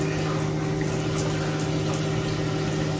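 Water running into a freezer container during rinsing, a constant close rushing hiss with a steady hum beneath, unbroken from start to finish.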